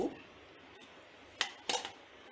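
Two ice cubes clink into a glass while a mojito is being made, two quick separate knocks a moment apart, close but fairly soft, in an otherwise quiet kitchen.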